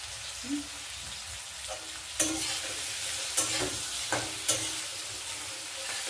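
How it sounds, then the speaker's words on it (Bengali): Ginger fries in a pan, giving a soft steady sizzle with several sharp scrapes and clacks as it is stirred, close by and fairly quiet, for a spinach and bean vegetable dish. "আদাটা একটু ভেজে নিয়েছি।"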